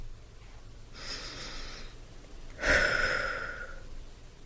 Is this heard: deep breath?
yes